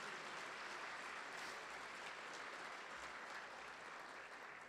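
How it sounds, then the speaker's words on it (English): A large luncheon audience at the Detroit Economic Club gives a round of applause to welcome students and thank their sponsors, a dense, even wash of clapping that holds steady throughout. "Now you can join me in a round of applause to welcome those students and thank their sponsors."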